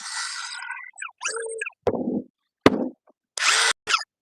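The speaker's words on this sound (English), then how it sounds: "You can hear it spinning in there, but the anvil ain't engaging." A power tool, an impact tool with its anvil not engaging, spins in short separate bursts, loud and close, with gaps of silence between several uneven runs.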